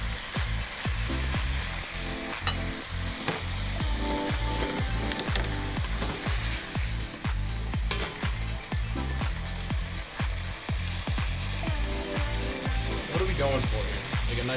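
Slivered beef stir-frying with garlic and ginger in a hot pan, a loud steady sizzle broken by rhythmic scraping and tossing strokes throughout, with occasional voices in the background.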